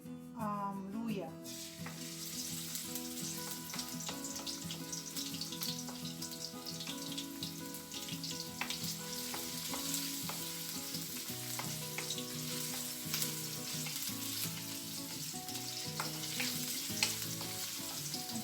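Ginger sautéing in hot cooking oil for fish escabeche, a continuous soft sizzle heard beneath background music throughout.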